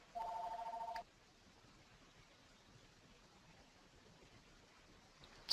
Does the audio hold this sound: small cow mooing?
no